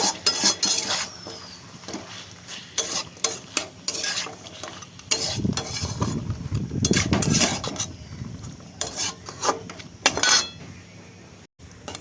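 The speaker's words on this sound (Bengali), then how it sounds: "এবার ভালো করে একবার নেড়ে নেব" A spoon scrapes and clinks in a pan of sizzling lemon pepper chicken with coriander leaves, irregular stirring strokes and metallic taps close by over a soft fry.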